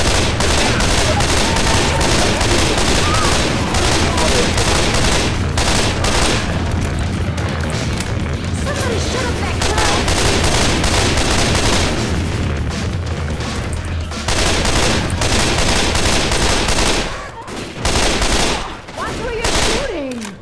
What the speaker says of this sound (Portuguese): Mas dá um tiro só aqui.